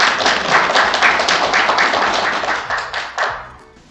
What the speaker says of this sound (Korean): 뜨거운 박수를 맞이해 주시기 바랍니다.